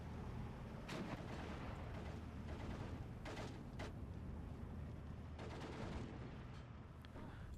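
Assault guns firing at a machine-gun position in Steel Division 2, heard as several sharp, loud cannon reports spaced over seconds above a constant rumble of battlefield gunfire and explosions, with no voices.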